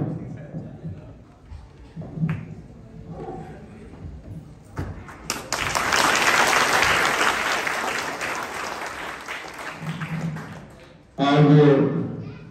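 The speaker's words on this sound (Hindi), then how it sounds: "जोरदार तालियों के साथ आपका सम्मान भरी तालियों के साथ स्वागत है मुख्य अतिथि साहब" Applause welcoming the chief guest at a school honours ceremony swells after a spoken introduction, holds for several seconds, and returns in a brief loud burst near the end, with a voice speaking around it.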